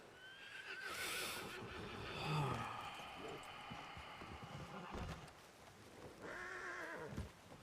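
A horse in the game Red Dead Redemption 2 (RedM) whinnies loudly near the start, then snorts and hoof clops follow before a second shrill neigh near the end; no one speaks.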